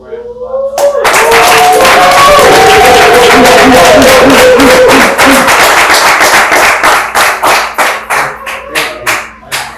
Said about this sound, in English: please join me in giving Muriel and Donnell's Kitchen and Lounge one more round of applause